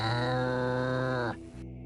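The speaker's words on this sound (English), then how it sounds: "Specifically, it's the sound of a cat growling" A cat's low, steady growl with a reverb effect, a droning tone that holds, then cuts off abruptly into a faint, reverberant tail.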